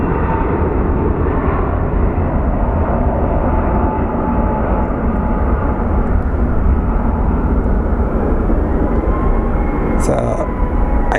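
A fixed-wing airliner taking off at Phoenix Sky Harbor airport roars continuously as a loud, broad rumble from the distance. It stays steady throughout, with a brief chirp near the end.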